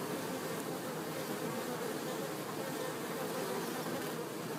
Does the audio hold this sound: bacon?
no